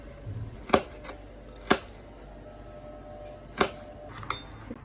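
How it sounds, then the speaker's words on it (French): A knife chops onions into small pieces on a cutting board, four sharp separate knocks spaced about a second apart, close and fairly quiet against a low background. "je commence par les oignons. Ils seront découpés en petits morceaux pour faciliter la cuisson"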